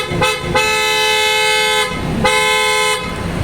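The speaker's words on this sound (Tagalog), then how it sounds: "Testing po natin yung auto style horn natin." A loud, brassy aftermarket auto-style car horn blares in two long, sustained honks separated by a short pause, very close and alone.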